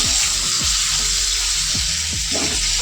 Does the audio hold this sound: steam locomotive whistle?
no